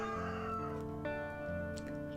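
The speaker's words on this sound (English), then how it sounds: "I hope you enjoy that rooster, because sometimes I do." A rooster right by a front door crows in a sustained, wavering call that breaks into a second phrase, close and clear with no speech.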